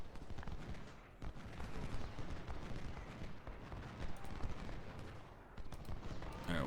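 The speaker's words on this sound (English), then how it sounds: "See how these siege guns do." Siege guns fire in the Civil War strategy game Ultimate General: Civil War, heard as a dense, continuous rumble of distant artillery and gunfire with scattered sharper reports throughout.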